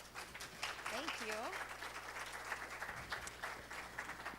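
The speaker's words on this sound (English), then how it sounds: "please give a round of applause to Autumn" Applause from an audience at a disability employment awareness event, moderately faint clapping from a group, with a brief voice speaking over it near the start.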